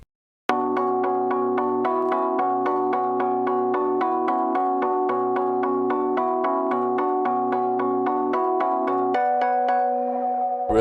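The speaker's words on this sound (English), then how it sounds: "So I'm using bells from Omnisphere, and this is the pattern that I came up with." Dark bell melody from an Omnisphere preset for an ambient trap sample, a steady rhythmic pattern of ringing bell notes repeating evenly, shifting to a higher sustained phrase near the end, with no talking.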